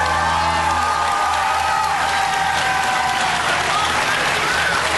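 A 1977 TV game show studio audience claps and cheers loudly and continuously, a dense wash of applause running throughout without a break.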